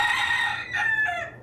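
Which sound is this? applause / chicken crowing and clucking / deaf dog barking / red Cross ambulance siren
chicken crowing and clucking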